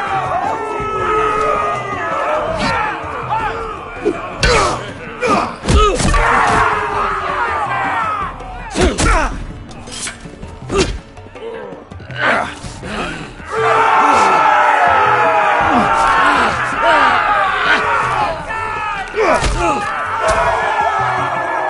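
Arena crowd in a Game of Thrones fighting pit roaring and screaming, loud surging cheers and shouts with thuds, mixed with dialogue over the din.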